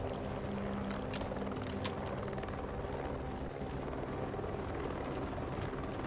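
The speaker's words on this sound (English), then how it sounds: "That helicopter in the sky." A helicopter in a video game drones overhead with a steady rotor thrum, loud and continuous throughout with no talking.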